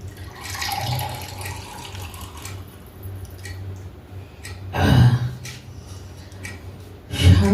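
Water is poured for drinking as a sound effect in a quiet hotel-room scene: short splashing bursts over a low steady hum, with a stronger pour near the middle and another at the end.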